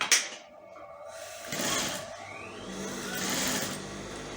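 Sewing machine stitching a corset lining, heard as a short burst near the start and then two longer runs of steady mechanical whirring, close and alone with no talking.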